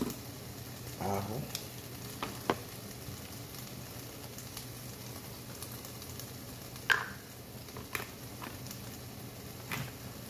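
A teaspoon of garlic frying in a pan alongside carrot and onion, giving a soft, steady sizzle broken by a few sharp clicks and scrapes, quiet and close with no voices.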